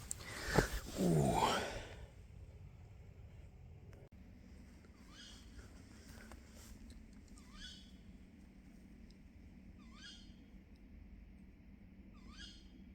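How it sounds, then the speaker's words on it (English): An owl calls at night in woodland, giving faint, distant hoots at regular intervals of a few seconds over a quiet background, after a brief louder burst of sound at the start. "There's an owl up there somewhere. I can hear it, but I can't see it."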